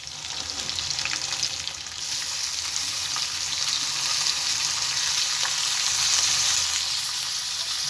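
Onion and tomato frying together in hot oil for homemade avarekalu egg fried rice, a loud, continuous close sizzle holding steady throughout without speech.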